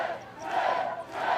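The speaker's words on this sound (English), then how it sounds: "glad for the cheer for Tim's birthday" Studio audience on a live television show cheering for a birthday, a steady crowd roar that swells, dips briefly and rises again, close and fairly loud with no talk over it.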